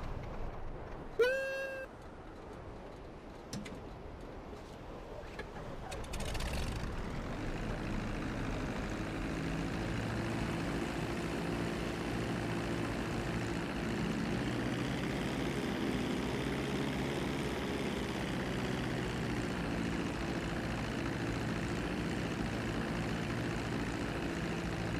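A steady, droning airplane engine in the open-world game GTA holds a constant loud hum for about twenty seconds after a few brief clicks and tones at the start.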